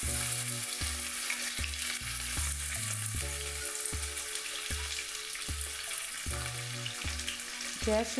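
Mustard seeds, urad dal, curry leaves and onion frying in hot oil for coriander rice, a steady loud sizzle with crackling and stirring scrapes of a spoon in the pan, and no talking.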